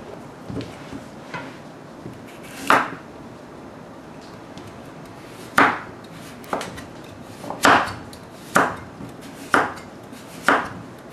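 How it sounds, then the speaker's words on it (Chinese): Carrots being chopped into large chunks with a kitchen knife on a cutting board for beef curry, a few sharp close knocks at uneven intervals between quiet pauses. "我萝卜切成块状的啊，切块大块大块"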